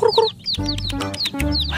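A colourful rainbow-dyed chicken clucks close and loud in a quick series of short, rising calls, heard alone.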